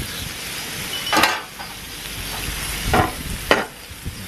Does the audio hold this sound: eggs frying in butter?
yes